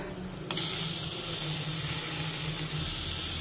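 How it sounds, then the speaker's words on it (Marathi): Halved ripe tomatoes dropped into hot oil with sautéing onion, ginger and garlic for a Maharashtrian matar bhaji, setting off a sudden loud, steady sizzle and hiss that continues without talk. "यामध्ये 2 मोठ्या आकाराचे टोमॅटो असे उभे कट करून घेतलेले आहेत, हे सुद्धा यामध्ये टाकूया"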